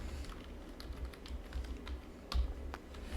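Code being typed on a computer keyboard, a steady run of light key clicks with a few sharper taps, fairly close and with no talking.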